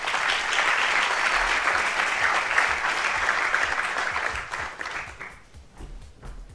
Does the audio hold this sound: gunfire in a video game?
no